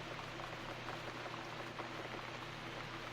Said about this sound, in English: it's raining outside, so the mood is perfect